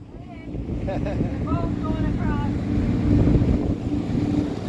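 A boat powered by a 9.9 outboard motor cruises on Georgian Bay, its steady engine drone mixed with heavy wind buffeting and the rush of water, loud and continuous throughout.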